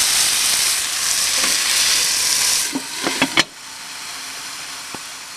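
Bicol Express stirred in a hot pan sizzles steadily for nearly three seconds, then a few sharp clacks of a spoon against the pan before the frying settles to a quieter hiss.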